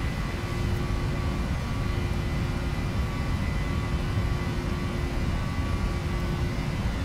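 Steady, loud jet engine roar from an airliner at takeoff power in the PMDG NGX (737NG) flight simulator, a constant broad rumble with a faint tonal whine running unbroken throughout, no voices.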